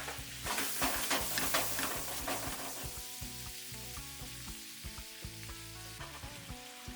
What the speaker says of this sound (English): Now in goes our cherry tomatoes or tomato medley.